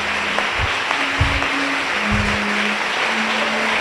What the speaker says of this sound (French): Applaudis bon Dieu pour moi